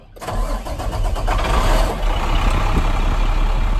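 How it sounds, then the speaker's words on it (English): A Class A truck's engine cranks and catches almost at once, then settles into a loud, steady, rumbling idle that continues to the end. "now I can turn the vehicle on at this moment of time and build up my air pressure"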